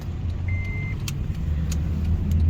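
Steady low rumble of a car driving along a road toward a Walmart store, with a constant engine and road drone and a few faint light clicks and rattles inside the cabin.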